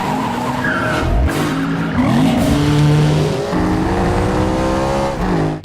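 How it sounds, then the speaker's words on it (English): Loud roaring car engines revving and shifting during a high-speed police chase, with squealing tires skidding through turns, continuous and close throughout. "a scene with roaring engines"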